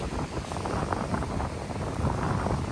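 Strong, steady wind on Jelitkowo beach in Gdańsk buffets the microphone with a constant roaring rush, no voices, unbroken throughout.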